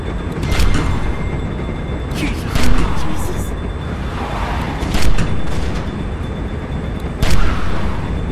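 Gunfire in The Walking Dead game during a vehicle chase, three or four loud, spaced booming shots over a constant rumbling engine and road noise.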